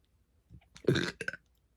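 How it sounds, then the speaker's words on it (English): A single loud, close burp from a woman, a rough croaking belch lasting under a second with a short trailing tail, alone without speech. "Sorry, I'm all full of burps right now."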